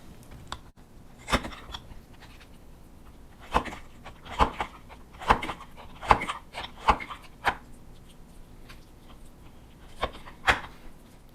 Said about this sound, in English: I'm using the meat slicer, and I'm just gonna cut this into strips